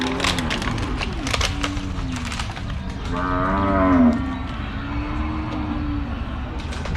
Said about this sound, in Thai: คองนี้จะเป็นวัวตัวเมีย